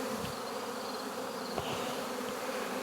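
Honey bees drone around their hives during a hive check, a close, continuous buzzing with a few individual bees passing near and a faint background hum.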